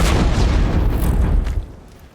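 A launcher weapon in Horizon Zero Dawn sets off a loud, heavy explosion with a deep rumbling boom that holds, then fades over about two seconds.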